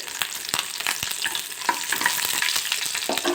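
Five dried red chillies fry in hot oil for a peanut chutney, a steady close crackling sizzle with sharp pops and spatters running throughout, no voices.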